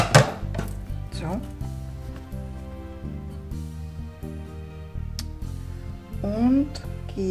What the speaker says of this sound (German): Deswegen schneide ich das Gras in kürzere Stücke.